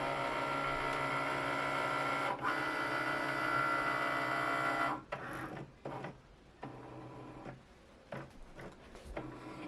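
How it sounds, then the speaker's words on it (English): A Cricut cutting machine hums steadily at close range for about five seconds as it scans for a black registration mark, then drops to quieter, intermittent mechanical whirs and movements. "what it's doing is the machine is actually looking for this black registration mark, so it makes sure that it's cutting in the right spot"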